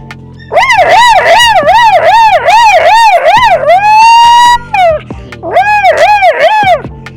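A voice imitates an ambulance siren, a rapid rising-and-falling wail repeated several times, then one long held tone, a short break, and more wailing. Loud and close.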